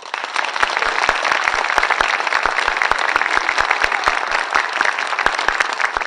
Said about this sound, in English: can we show him a round of applause?